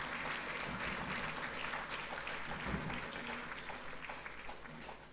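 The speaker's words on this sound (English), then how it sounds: "May we please give them a sound round of applause." Attendees at a Nigerian Navy stripes-shipping decoration ceremony give service chiefs a round of applause, a moderately distant, fairly quiet spread of clapping that slowly tapers off.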